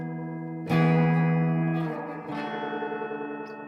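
Spring reverb pedal with the drive pushed high gives a wobbly, oil-can-like effect on a guitar: a loud sustained distorted chord blooms, then a second hit trails off in warbling, tremolo-like reverb wash.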